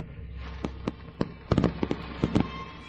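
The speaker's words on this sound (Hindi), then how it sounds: "कौन आतिशबाजी कर रहा है?" Fireworks going off for a birthday, a rapid string of sharp cracks and pops, some in quick clusters, over a steady background hiss, moderately close.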